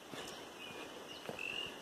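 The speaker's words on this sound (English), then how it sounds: "You can hear frogs chirping" Frogs at a small mountain pond chirp and croak faintly at a distance, scattered short calls over a soft outdoor hiss, with a few light rustles or steps nearby.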